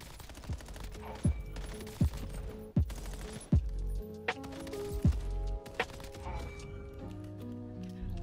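Gunfire in the video game Warzone: sharp single shots in a loose rhythm, roughly one per second, with quick bursts later, loud over a busy game mix of effects.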